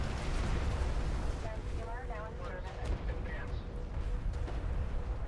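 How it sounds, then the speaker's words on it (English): Artillery barrage in the desert strategy game Deserts of Kharak, with repeated booming impacts rumbling under a dense wash of battle noise and brief chirping unit tones. "Nice barrage, gonna do some heavy damage to this artillery cruiser"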